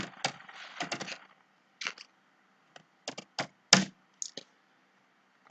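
Computer keyboard keys tapped while entering card payment details online, heard as short irregular bursts of close, crisp clicks separated by brief pauses, with no talking.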